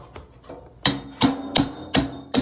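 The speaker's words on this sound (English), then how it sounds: "They use a punch." Metal punch struck with a hammer to drive parts off a fan motor shaft: several faint taps, then five loud, evenly spaced ringing blows, close and alone.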